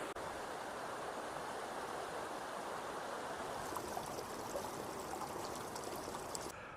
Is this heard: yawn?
no